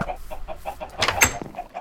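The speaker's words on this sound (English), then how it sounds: "I'm very interested in what's happening with the chickens." Chickens cluck in the video game Minecraft, a run of short repeated clucks with a busier burst of louder calls in the middle, heard close and alone with no talk.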